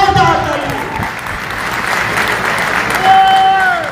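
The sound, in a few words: audience applause for the chief guest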